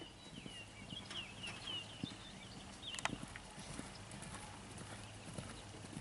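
Horse hooves cantering in a riding arena, a quick repeating clip-clop rhythm at moderate distance, with faint background noise and some light voice sounds in the mix.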